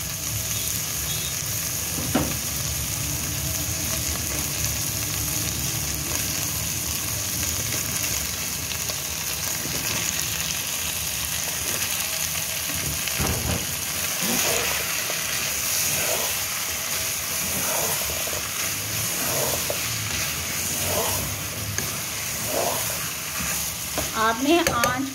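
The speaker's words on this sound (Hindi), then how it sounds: "आपने आंच को थोड़ा सा हल्का रखना है और इसको खूब भूनना है।" Minced keema with potatoes fries in a pan over low heat, a continuous close sizzle broken by scraping stirs at regular intervals, with no voices over it.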